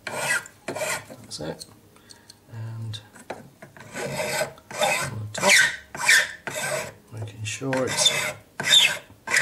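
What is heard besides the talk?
scraping excess solder off a jewellery bezel setting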